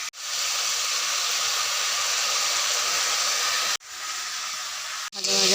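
A paste of cumin, onion, garlic and tomato hits hot oil in a pan and gives off a loud, steady hiss of sizzling that cuts out sharply twice near the end.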